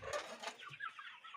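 A young chick clucking and peeping close by, a few soft, quick calls over a second and a half, quiet with no talking.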